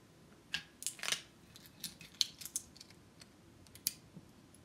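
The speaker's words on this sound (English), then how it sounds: "there's usually a serrated knife that you can ease around the neck of the bottle" A waiter's friend serrated knife scoring the foil capsule around a wine bottle neck: a quick series of small sharp scrapes and ticks, close and soft, with no talk.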